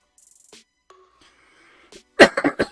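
A single person gives a short burst of coughs, several sharp close hacks in quick succession, after a few faint clicks and near silence.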